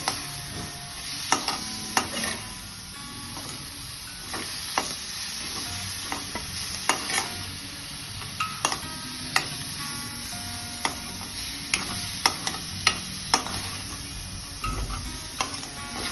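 Tomatoes for dal being stirred in a hot pan, a continuous sizzle punctuated by frequent sharp clacks of a spoon scraping and tapping the pan, close up and without any voices.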